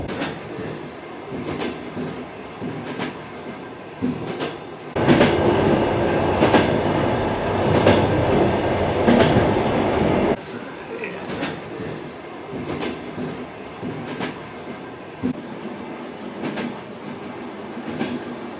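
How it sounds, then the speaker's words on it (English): A Trans-Siberian train rolling along the rails near Goose Lake, steady rumble with rhythmic clickety-clack of wheels over joints, louder in a middle stretch, heard from inside the carriage with faint voices in the background. "The train runs along Goose Lake for quite some time"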